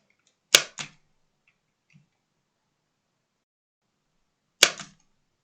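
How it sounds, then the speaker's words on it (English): An AliExpress solder sucker is triggered twice, several seconds apart. Each release gives a sharp, close snap with a brief rattle after it, and the room is quiet in between with a tiny tick. "I can hear it trying to suck, but it's literally doing nothing."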